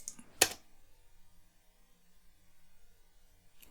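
A single sharp keyboard keystroke serves as a typing sound effect in a Vegas Pro text animation, followed by near silence with faint hum and one more soft click at the end.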